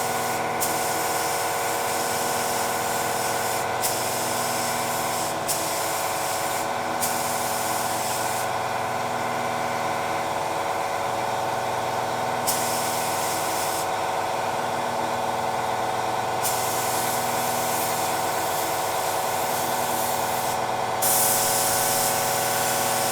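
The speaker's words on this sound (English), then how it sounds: "Now I'm going to spray the 38J Celestial Blue" A spray gun hisses steadily as 38J Celestial Blue paint is sprayed onto color sample cards for a 1973 Toyota Celica restoration, in long continuous passes broken by brief pauses.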